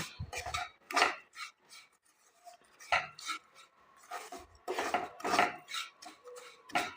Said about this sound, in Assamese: আপোনালোকে গেছটো অফ কৰি 1 মিনিটমান কেৰাহীখনত এইদৰে লৰাই দি দিব